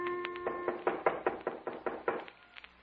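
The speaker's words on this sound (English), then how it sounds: "there was a knock on the door" Knocking on a cabin door as a radio drama sound effect: a run of about ten firm, evenly spaced raps, close and alone, easing off at the end.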